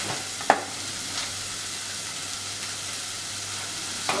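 Onions frying and caramelizing in a pan for risotto, a steady soft sizzle with a couple of faint stirring knocks.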